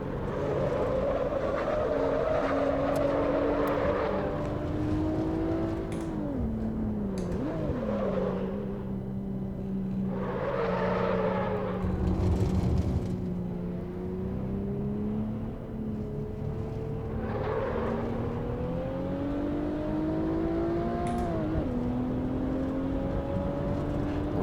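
A race car engine and tyres in the Assetto Corsa driving game, a steady engine drone rising and falling through gear changes and revs, loud and continuous for the whole stretch with no talking.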